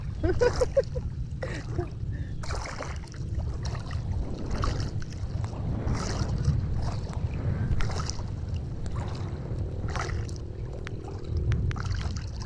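Steady low engine rumble and water sloshing against a small boat's hull at sea, with wind and occasional faint voices in the background throughout.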